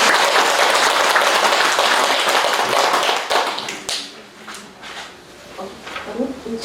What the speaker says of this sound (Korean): 포교국장 정호 스님께 큰 박수 부탁드립니다.